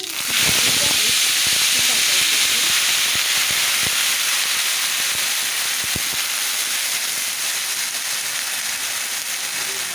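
Mustard seeds and curry leaves dropped into hot oil for a spinach bhaji, a loud sudden hissing sizzle with crackling pops early on, then a steady spitting fry that gradually settles.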